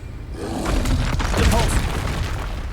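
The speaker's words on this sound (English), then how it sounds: "So when they're throwing the rock at me, I can depulso." Depulso spell cast in a Harry Potter video game to push back a thrown rock, a rumbling, crashing burst of effects swelling over about two seconds, loud and close.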